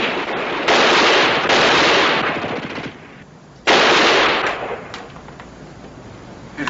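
Rifle gunfire from soldiers in a war TV drama: loud bursts of rapid automatic fire in two long volleys with a gap between, then scattered single shots trailing off.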